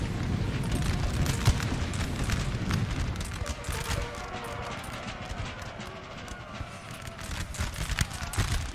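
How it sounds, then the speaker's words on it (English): Massed musket volleys crackle in Napoleon Total War 3 as hundreds of units fire in a 4v4 battle, with dense irregular pops and rumbling booms mixed together and moderately loud throughout. "there's like hundreds of units firing at you"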